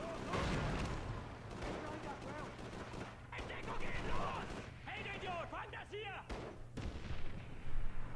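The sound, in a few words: grenade explosion in video game Call of Duty 3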